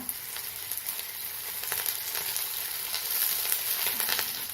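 Onion and curry leaves fry in a pan with a continuous crackling sizzle, dotted with brief spitting pops, steady and close with no voices.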